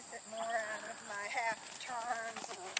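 A hot, nervous horse trots through a leg yield during a dressage warm-up, its hoof beats steady and rhythmic in a moderate, slightly distant clip-clop, with a voice speaking over it.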